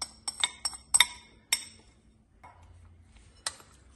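Flour and cornflour are mixed into chicken in a bowl, heard as a scattered series of sharp, close clinks of a utensil against the bowl with quiet gaps between them.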